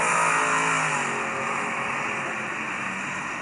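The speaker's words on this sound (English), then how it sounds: "a little trouble hearing you right there as the cars were coming up to speed a little bit, Mike" Race cars at the Charlotte track roaring as they accelerate up to speed, a loud, sustained engine drone that is strongest at the start and eases slightly as the pack passes.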